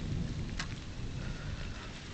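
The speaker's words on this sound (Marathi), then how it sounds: "ढग भरलेले आहेत, ढगांचा आवाज सुद्धा येतोय." Thunder rumbles with light rain falling on a cloudy fort trek at Rajgad, a steady low roar with a brief brighter crackle near the start, no voices.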